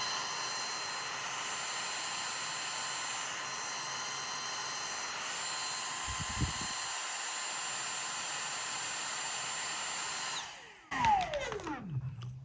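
A Dyson cordless vacuum cleaner cutting on and off: the motor whines steadily at a high pitch for about ten seconds, then cuts off and spins down with a falling tone, followed by brief clatter.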